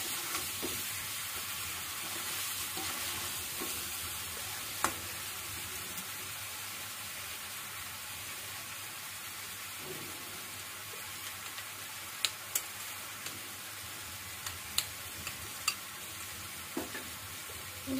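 Chicken korma frying in a pot after salt goes in, a quiet, steady sizzle with sparse utensil clinks and taps that grow more frequent toward the end, close by, with no talking.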